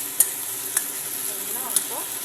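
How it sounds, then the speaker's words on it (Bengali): Spices fry with eggplant and potato in hot oil, a steady close sizzle broken by a few sharp scrapes and knocks of stirring, with no one talking. "ভালো করে এখন মশলাগুলিকে সবজির সাথে কষিয়ে নেব।"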